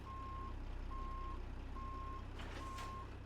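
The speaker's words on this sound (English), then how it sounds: "It's like the same reverse beeper." Reverse beeper on a Kenworth W900 truck in a driving simulator game, four evenly spaced steady tones over a constant engine drone, with a brief hiss near the end.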